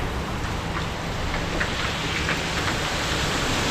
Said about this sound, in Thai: ฝนตกวันนี้